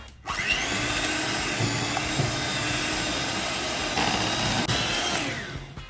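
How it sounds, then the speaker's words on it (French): An electric hand mixer beats softened butter for a chocolate and M&M's cake, giving a steady, loud motor whir that runs continuously and close to the microphone from start to finish, with faint shifts in pitch as the beaters move. "Il doit être mou et on va le mixer à l'aide d'un batteur."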